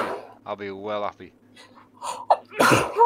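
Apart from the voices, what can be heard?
sneeze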